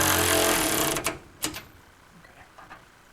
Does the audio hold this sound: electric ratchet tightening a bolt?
yes